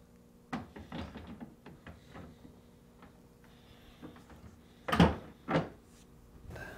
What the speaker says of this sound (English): To install the freezer door, align the hanging tabs near the bottom of the door to the slides and the bolts to the notches on the hanging struts.